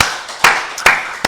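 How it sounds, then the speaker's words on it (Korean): A church congregation claps together at a Korean Full Gospel Wednesday worship service, three loud, evenly spaced claps ringing through the hall with no talk over them. "우리 박수를 하나님께 영광 돌리겠습니다"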